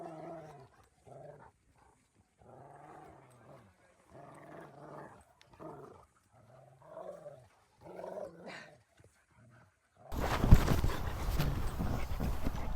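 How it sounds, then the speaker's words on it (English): A dog growls in low rumbling bursts across several seconds, fairly quiet and close, followed by a sudden loud burst of rough noise at the end. "Miss Red just can't get enough of Roscoe growling."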